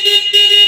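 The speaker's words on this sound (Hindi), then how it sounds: "ये कैसा हॉर्न दे दिया इसमें" Horn of a Bajaj Pulsar NS400z motorcycle sounds a steady, buzzy electric tone, loud and close, in two blasts separated by a brief break.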